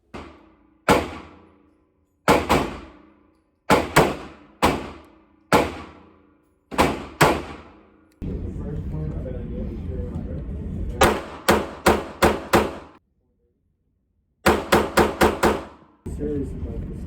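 Pistol shots ring out at an outdoor range during a test of an Osight C red dot optic, sharp single reports spaced a second or so apart, then quicker strings of rapid fire, with a stretch of rumbling noise between.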